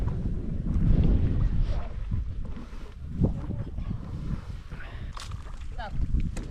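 Wind buffets the microphone on a river while people paddle stand-up boards into a headwind, a low rumbling gust noise with water sounds and occasional voices over it.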